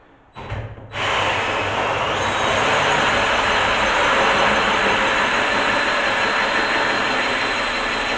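A power drill starts with a brief stutter, then runs continuously with a loud, steady, harsh whirring drone that holds to the end.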